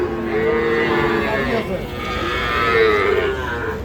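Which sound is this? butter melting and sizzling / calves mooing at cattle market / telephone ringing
calves mooing at cattle market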